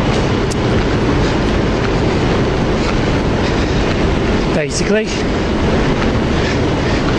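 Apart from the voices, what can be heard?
old passenger train with Mark 3 coaches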